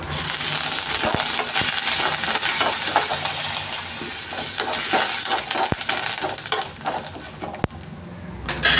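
Dried red chilies and curry leaves fry in hot oil for a Tamil savory snack, giving a steady close sizzle with scattered sharp pops and a few utensil clinks, with no talking.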